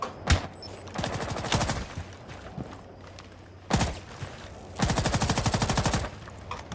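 Automatic gunfire from an operator in a Rainbow Six Siege 3v3 tournament match, arriving as several rapid, loud bursts separated by quieter gaps, with a final sustained rattling stream.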